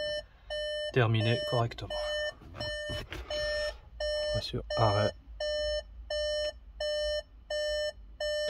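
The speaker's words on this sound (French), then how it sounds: "comme c'est une boîte auto, c'est pour ça que ça bip comme ça" A Seat Tarraco 1.5 with an automatic gearbox gives a continuous warning beep: short, regular electronic pulses that repeat steadily, with someone talking over the first few.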